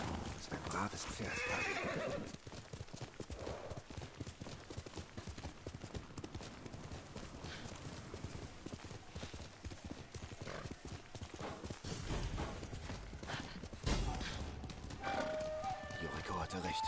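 A horse in the video game Ghost of Tsushima whinnies and trots, its hooves clip-clopping in a fast steady rhythm throughout, with a loud neigh near the start and game sound and voices mixed in.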